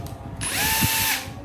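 A Makita 18V cordless drill spins up and runs at a steady high-pitched whir for about a second before winding down, close and loud over a low background murmur.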